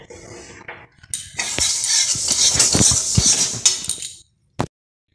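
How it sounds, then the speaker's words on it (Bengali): Roasted sesame seeds pour from a pan into a bowl as a dense, continuous hissing rattle lasting a few seconds, with metal scrapes and a final sharp clink nearby. "এই পাত্রে ঢেলে নিয়েছি তিলটা, ভাজা হয়ে গেছে।"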